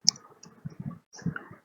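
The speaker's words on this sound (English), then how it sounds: "you have to press Windows key and R together on your keyboard" Two keys pressed together on a computer keyboard, the Windows key and R, give a few close, soft plastic clicks and taps in a quiet room with no talking.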